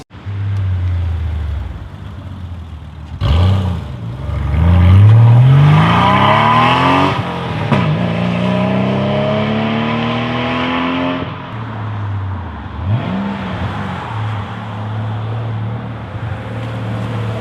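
A Porsche 993 Carrera's 3.6-liter flat-six revs hard in a Need for Speed racing game, climbing through several gear changes with rising and falling engine sweeps, loud and close, then settling to a steady idle drone.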